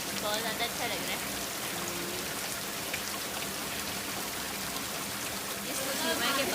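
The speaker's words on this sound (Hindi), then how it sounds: "इस समय के बारिश जो है वो अब तेज़ हो रही है" Heavy rain pours onto a rooftop, a dense, steady hiss of drops and trickling water that holds constant throughout, with people talking faintly beneath it.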